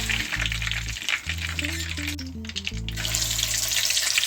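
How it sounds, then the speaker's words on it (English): Jamaican escovitch chicken pieces frying in hot oil, with a steady, crackling sizzle that runs throughout, close and fairly loud. A low, sustained background hum sits beneath the frying. "add the last 2 pieces to my oil"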